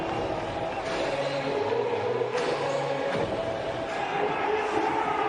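A crowd at a cricket stadium, a continuous distant wash of chatter and murmur with a faint swell of cheering, heard under a commentator's voice.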